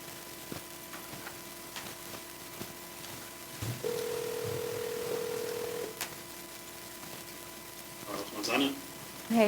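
A phone call placed during a town board meeting rings out as a steady tone for about two seconds, with room noise and scattered speech around it.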